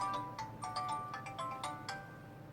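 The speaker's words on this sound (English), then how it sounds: "So you can hear the different ringtones." Ringtone playing on a No.1 D5 smartwatch: a quick, bright melody of short chiming notes in an uneven rhythm, fairly close and clear, with no talk.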